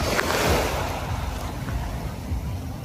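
Sea waves along Roxas Boulevard in Manila on a Sunday morning make a continuous broadband wash of surf mixed with wind rumble, loud and close throughout.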